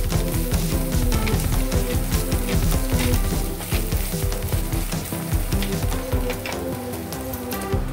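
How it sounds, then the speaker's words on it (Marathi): Surmai fish masala with garam masala and coriander powder sizzling loudly in a pan while being stirred, a dense, continuous crackle with scraping and clatter throughout. "आता हे आपण चांगलं हलवून घेऊया."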